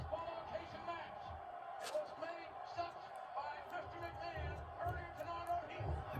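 An arena crowd at WrestleMania 15 in 1999 roars through a match between two wrestlers, a steady distant wash of cheering with occasional thuds from the ring and a voice talking over it.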